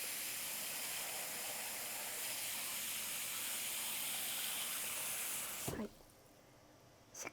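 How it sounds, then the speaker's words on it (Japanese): Water pours steadily into a pot on the stove for cooking carrot glacé, a broad hissing rush lasting several seconds before stopping abruptly, followed by a brief clank and a short spoken word. "しっかりかぶるぐらいの水を入れます"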